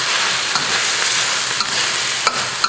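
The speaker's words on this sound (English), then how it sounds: "So, the eel's been cooking." Eel fries in a pan with hot curry paste, a loud continuous sizzle close by with occasional sharp pops and utensil clicks.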